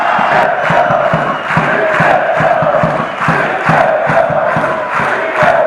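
Belarusian football supporters in a stadium chant in a call-and-response roll call, loud massed voices cheering in a steady rhythm punctuated by regular thumping beats, with no one talking.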